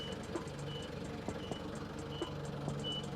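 A reversing forklift sounds its steady beep-beep alarm at a moderate distance, evenly spaced tones over low engine rumble and faint clatter.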